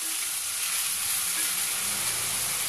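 Two crushed cloves roast in hot oil with a dense, even, close-up sizzle and hiss that holds steady throughout, no voices over it.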